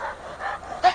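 Griffon-cross dog Hulk panting on a hiking climb, quick breathy rasps close to the microphone in short bursts, with a faint whimper near the end.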